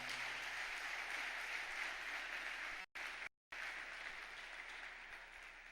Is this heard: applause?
yes